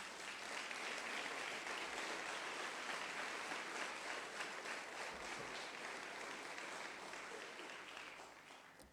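A church congregation applauds in a sustained wash of clapping from many hands that holds steady and then slowly fades toward the end.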